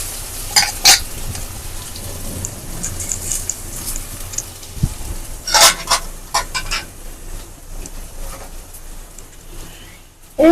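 Red lentils (masoor dal) frying in a pan, a steady low sizzle with sharp clinks and scrapes of a spoon stirring at intervals, close by with no voices.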